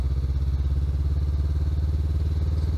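A motorcycle engine chugs with a steady, rapid low throb close by, pulling away gently in second gear.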